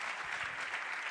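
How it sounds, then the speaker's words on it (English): Steady audience applause at a conference talk on generative AI in the UAE, a dense, even wash of clapping that fills the whole short moment. "Round of applause for His Excellency, Minister Omar Olama."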